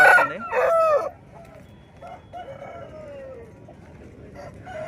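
A rooster crows loudly and close at the Gudur chicken market, followed by softer clucks and distant bird calls over a quiet background.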